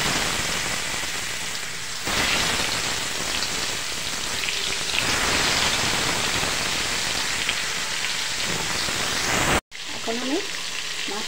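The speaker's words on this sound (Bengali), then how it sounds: "এখন মাছগুলোকে আমি ভেজে নেব।" Fish pieces frying in hot oil in a wok for a potato and fish curry, a loud continuous crackling sizzle that swells as more fish goes in, close with no talk.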